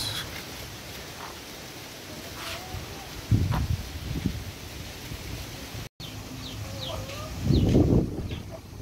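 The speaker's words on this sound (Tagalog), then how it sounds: "Ito po yung native chicken ko" Native chicken crossed with Rhode Island clucks softly in a farmyard, a few short low clucks and faint chirps scattered over steady background noise.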